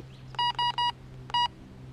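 A Fisher F22 metal detector gives clean electronic beep tones: three short beeps in quick succession, a brief pause, then a fourth, crisp and isolated over a faint hum.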